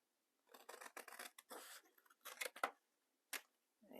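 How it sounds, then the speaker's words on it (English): Scissors cutting paper for a junk journal: a quick series of close, crisp snips and rustles in short bursts, with a lone snip after a brief pause. "Cut this one out."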